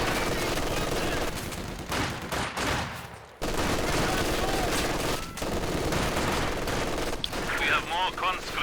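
MG42 machine gun fire from the video game Company of Heroes 2, with sustained bursts of rapid gunfire and explosive cracks, loud and dense, broken by a short pause and mixed with other battle noise.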